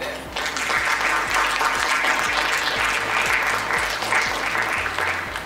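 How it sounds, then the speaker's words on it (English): Audience applause at a restaurant awards ceremony, dense continuous clapping from a large room with a low rhythmic hum or music beneath it, sustained at even loudness throughout. "let's give a round of applause"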